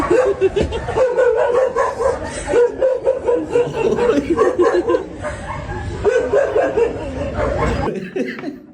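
A dog barks and yips repeatedly in quick bursts, close and fairly loud, with laughter-like sounds mixed in and a brief pause near the end.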